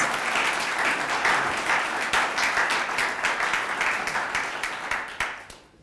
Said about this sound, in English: Please give a round of applause to Dr. Tiffany R. Harris.